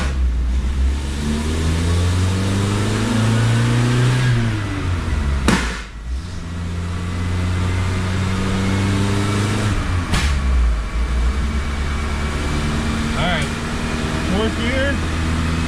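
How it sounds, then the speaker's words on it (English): A 1986 Plymouth Voyager with a 2.2 liter engine revs on a dynamometer, its loud, close engine note climbing steadily in pitch through repeated gear pulls, with brief sharp breaks between them. "we're gonna go for our first dyno pull"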